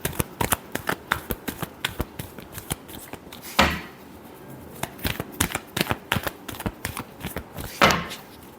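Tarot cards shuffled by hand in a steady run of crisp riffling slaps and flutters, close and fairly loud, with two sharper bursts where the deck is bridged or squared; no talking.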